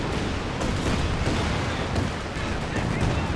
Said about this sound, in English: Got some Zis barrage action.